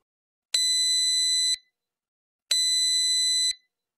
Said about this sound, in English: the dishwasher will beep for several seconds at the end of the cycle, indicating that the cycle is complete